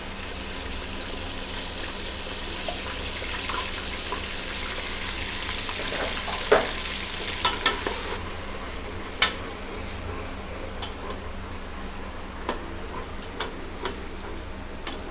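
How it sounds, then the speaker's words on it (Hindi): Garlic ginger paste frying in a pan for haleem, a steady soft sizzle with scattered ticks and pops from the oil throughout. "ये देखिए हमारा लहसुन अदरक फ्राई हो गया।"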